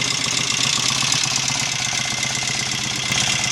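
A Royal Enfield Interceptor MK1 motorcycle engine runs steadily close by, with an even rapid thumping beat and mechanical clatter throughout, no talking.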